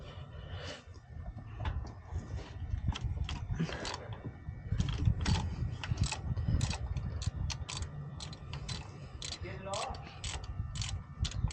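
A ratchet loosens 10mm bolts on a MazdaSpeed 3 EGR valve, rapid repeated clicking in bursts close to the listener over a low mechanical background hum.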